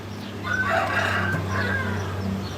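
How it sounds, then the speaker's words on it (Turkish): A rooster crows nearby, with clucking hens around it and a steady low hum in the background. "Bak sana kara tavuğumuzu göstereyim."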